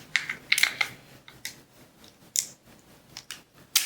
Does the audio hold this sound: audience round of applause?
no